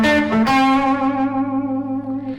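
Electric guitar lick from a song, a sustained distorted note with quick, shrill vibrato and echoing effects, loud and close, ringing alone for a couple of seconds.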